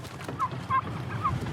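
Turkeys gobbling at close range on a farm raising birds for processing, three short warbling calls over a steady low murmur of the flock.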